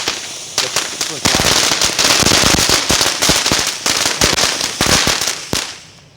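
Loud firecrackers rattle off in a fast, uneven barrage of sharp pops and crackles, easing slightly toward the end.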